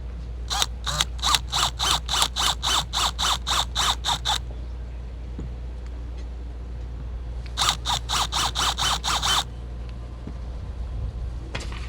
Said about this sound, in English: Using a 1/4-inch drill bit here, which is the same size that I used when I drilled the holes originally